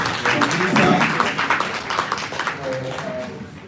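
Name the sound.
audience applause after statement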